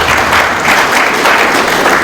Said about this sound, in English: a round of applause for Waziri.